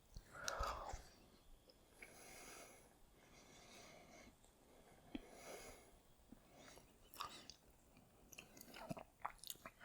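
Close, quiet chewing of a crunchy undercooked pea from a survival food kit, soft irregular crunches and mouth sounds with faint breathing.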